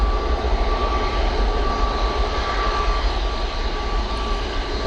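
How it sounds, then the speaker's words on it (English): A Boeing 737-800 departing Manchester Airport for Tenerife roars with loud, constant jet engine noise and a steady whine, dense and unbroken for the whole stretch, with no talking. "Off to Tenerife they go with that 737-800."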